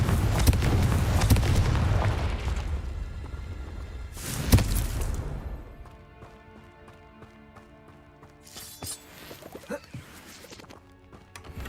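Blasting spells go off in Hogwarts Legacy, with two heavy explosive bursts landing a few seconds apart, followed by quieter clattering and a softer third impact amid sparse game sounds.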